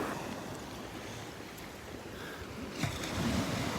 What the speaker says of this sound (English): These waves coming up